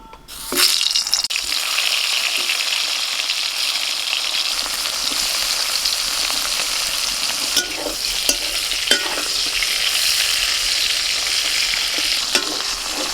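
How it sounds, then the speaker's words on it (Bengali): Young pointed gourds fry in hot mustard oil in a kadai: a loud, dense, continuous sizzle with stirring, heard up close and alone. "আবারও কড়াইতে সর্ষের তেল দিয়ে দিয়েছি, তেলটা গরম হয়ে গেছে,"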